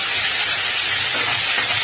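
Garlic, ginger and tomato paste hitting a hot pan while cooking paneer, giving a steady, close, loud hiss of sizzling that carries on without pause.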